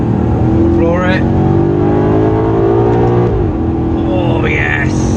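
A Maserati GranTurismo engine revs and accelerates loudly, its pitch climbing steadily in a dramatic, throaty roar from close range.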